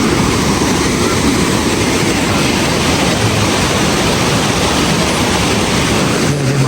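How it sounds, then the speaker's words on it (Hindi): Manthoka waterfall pours in a dense, constant roar of rushing water, loud and close, holding steady with no voices. "मंथोका वाटरफॉल"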